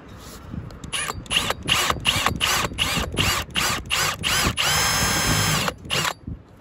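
A power drill with a 3/16 inch bit bores holes while installing a MaxxAir II vent cover on an RV roof. It runs loud and close in repeated short whirring bursts with brief pauses between them, and it stands alone without talk.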